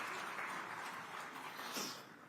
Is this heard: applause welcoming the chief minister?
yes